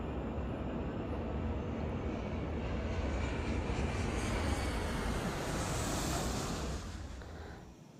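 In a film scene, a private aircraft's engine drones steadily in the cabin, a broad constant roar that swells slightly midway and then eases off near the end.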